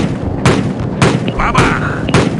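Four sharp gunshot blasts from the video game Call of Duty 4: Modern Warfare ring out at a steady pace amid continuous battle noise, loud and close, with no talking.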